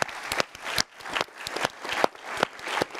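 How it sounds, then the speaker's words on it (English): Applause from a conference audience after the final session on monetary policy and inflation, fairly quiet and uneven, with scattered sharp claps fading in and out. "Let's give all of the speakers and discussants a round of applause."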